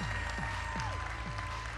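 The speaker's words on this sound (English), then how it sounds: "Let's give him a round of applause." Audience applause at the BlackBerry 10 world premiere event in New York City, a brief, dense burst of clapping from a crowd heard steadily throughout without talk.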